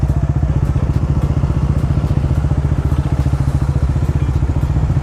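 A motorcycle engine roars at close range on a road near Bogibeel bridge, a loud, steady throbbing rumble with rapid regular pulses that stays constant throughout, with no voices over it.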